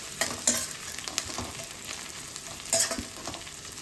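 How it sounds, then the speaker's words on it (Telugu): Thinly sliced onions and curry leaves frying in about two spoons of hot oil in a frying pan, giving a steady soft sizzle with a few sharper spatters and stirring knocks. "ఒక ఫ్రై ప్యాన్ వేడి చేసుకుని 2 స్పూన్ల నూనె పోసి వేడెక్కిన తర్వాత సన్నగా కట్ చేసి పెట్టుకున్న ఉల్లిపాయలు, కొద్దిగా కరివేపాకు వేసి వేగనివ్వాలి."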